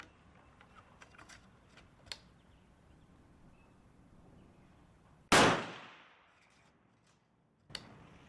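A tube-magazine rifle being worked: soft metallic clicks and handling noises, then a loud sharp clack of the bolt being pulled that rings out and decays, followed by another brief metallic click near the end.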